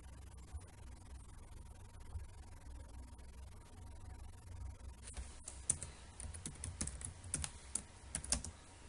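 Computer keyboard typing while editing code: faint clicks at first, then a quick burst of sharp, close keystrokes in an irregular rhythm over a low hum, with no talking.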